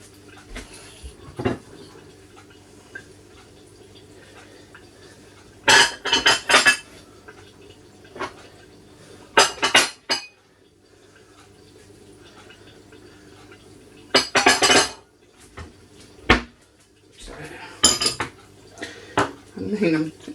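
Dishes and cutlery clatter in bursts while homemade lasagna is plated up in a kitchen, with sharp clinks and scrapes separated by quieter stretches and faint background sound.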